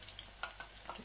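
Battered fish pakoras fry in hot oil, giving a faint, brief sizzle with scattered small crackles and pops.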